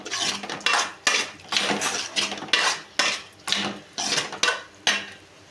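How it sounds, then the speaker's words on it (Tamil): Soya chunk gravy is stirred in a metal pan, the spoon scraping and knocking against the pan in about ten regular, fairly loud strokes, each a bright clatter with no talk. "கொட்டிட்டு நல்லா கிண்டி விட்டுக்கலாம்."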